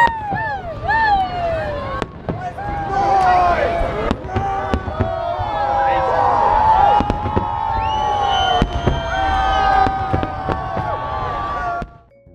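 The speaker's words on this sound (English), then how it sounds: "Here's a test shot that I took on New Year's Eve of some fireworks in San Francisco." New Year's Eve fireworks in San Francisco: repeated sharp bangs and crackles go off over a constant crowd roar, with whistling tones and voices throughout.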